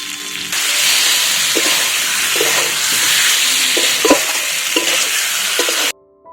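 Potatoes sautéing in a pan for an egg and potato curry, a steady broadband sizzle with periodic scraping stirs about every half second to second, close and fairly loud, cutting off abruptly near the end.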